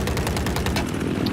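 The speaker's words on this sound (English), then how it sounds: "And I use a 25mm cannon, which also has explosive rounds." A 25mm helicopter cannon in a video game fires explosive rounds in rapid bursts, a dense and loud stream of booming reports with no voices over it.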